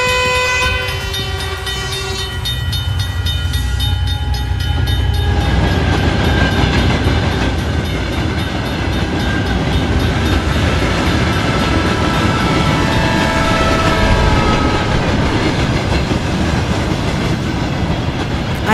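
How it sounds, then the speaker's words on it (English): An animated train rolls through a closed railroad crossing, with steady rail rumble and clatter of passing cars after an opening horn-like tonal blast, loud and continuous throughout. "The railroad crossing is closed! Now I have to wait for the train to pass."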